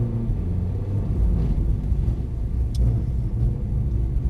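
A Mercedes-Benz car accelerates and turns on a driving track at Mercedes-Benz World, its engine giving a loud, steady low rumble that holds through the whole stretch with no voices.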